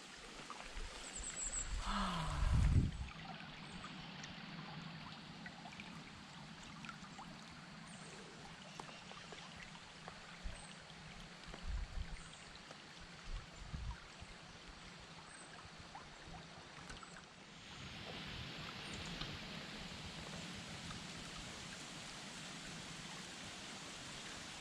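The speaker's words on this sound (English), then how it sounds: "Beautiful, clear, running water." Steady rushing of clear, flowing creek water at Ledges State Park, Iowa, fills the scene, a continuous wash of noise with a brief louder bump near the start.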